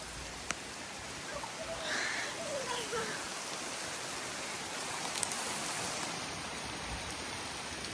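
Rain falls in a steady, soft hiss across a rural setting, faint and continuous, with a few small taps and a little background voice activity.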